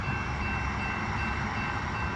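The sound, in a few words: SEPTA Regional Rail train passing through a crossing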